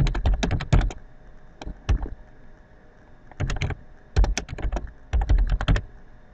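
Fingers type a project name on a computer keyboard, giving clusters of sharp, close key clicks in quick bursts separated by short pauses.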